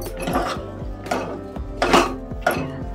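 Rice and water being mixed in a pot while cooking Maharashtrian coconut sweet rice, with repeated scraping and clinking strokes against the metal in an uneven rhythm, close and fairly loud, with no talking.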